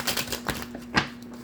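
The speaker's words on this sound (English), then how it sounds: "One more shuffle, and then we're going to get your cards." Quick papery riffles of tarot cards being shuffled close by, several soft bursts spread over about a second and a half with a faint hum underneath.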